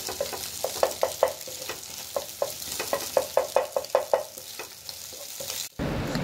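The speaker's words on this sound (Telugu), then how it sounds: "మరీ పెద్ద ముక్కలు కాకుండా, మరీ చిన్న పీసెస్ కాకుండా ఉండేటట్టు ఫ్రై చేసుకోవాలన్నమాట." Egg pieces frying in a pan for street-style chicken egg fried rice, a sizzling bed under a quick series of metallic spatula scrapes and taps, then an abrupt cut near the end.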